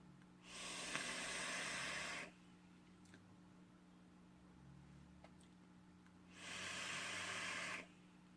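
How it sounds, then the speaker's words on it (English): An e-cigarette fired at 75 watts running a lemon pound cake e-liquid gives two long, steady hissing exhales of vapor, each about two seconds, separated by a quiet pause under a low background hum. "I'm vaping at my trusty 75 watts."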